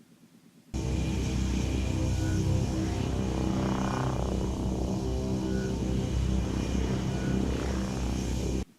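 Ship engines with afterburners roar in a video game race, a loud, steady droning blast that kicks in abruptly after a quiet opening and holds at full strength, with a few faint whistling tones riding on top.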